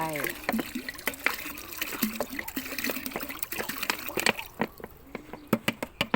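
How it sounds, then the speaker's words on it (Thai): A bottle of microbial liquid is poured into water for mixing a garden soil treatment, a steady trickling and splashing pour heard under ongoing talk. "ต่อน้ำจุลินทรีย์เทลงไปหนึ่งขวด เทลงไป"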